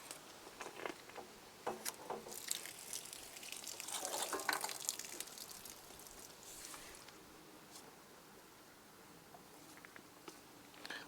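Water spatters and trickles as pressure is released from caravan taps and a pipe joint during a winter drain-down, a faint, irregular pattering that swells briefly to a gush midway and then thins out again.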